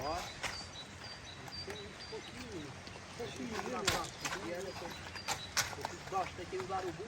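A young working stallion, restless around mares, moving with clopping hooves and occasional calls, while people talk nearby.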